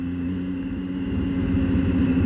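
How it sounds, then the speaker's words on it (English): Triumph Daytona 675 motorcycle engine idling steadily nearby, a smooth constant purring hum with a faint ticking texture, slightly swelling toward the end, no voices. "you can just hear the engine just ticking and purring away"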